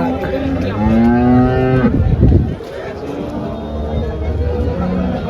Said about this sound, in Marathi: तर गाय पहा मित्रांनो तुम्ही, मस्त आहे गाय वगैरे.